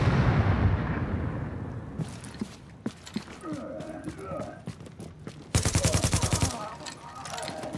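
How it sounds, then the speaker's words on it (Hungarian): In Tom Clancy's The Division, a deep, heavy blast opens and rumbles away, followed by scattered gunshots and then a rapid burst of automatic fire, with a voice speaking faintly at times. "Ez robban."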